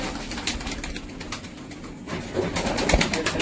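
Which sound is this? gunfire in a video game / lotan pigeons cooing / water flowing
lotan pigeons cooing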